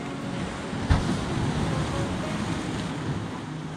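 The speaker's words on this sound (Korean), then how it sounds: "파도도 치고 있고" Ocean waves washing onto a shore beside a parked Tesla Model S Plaid, heard as a steady surf roar mixed with wind buffeting the microphone, close and continuous, with one brief thump.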